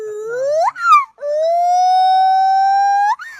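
In an animation, a police siren wails close and loud, with a short rising whoop followed by a long sustained tone that climbs at the end.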